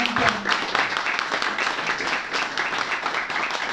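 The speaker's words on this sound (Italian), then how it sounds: "fatele un applauso" Sustained applause from an audience at the inauguration of a gastronomic library in Meta, filling the whole stretch with dense, steady clapping.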